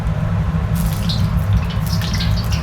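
Water flicked into hot oil in a wok before frying aubergines, giving a steady sizzle and crackle over a low, loud rumble, with spits and pops growing busier partway through.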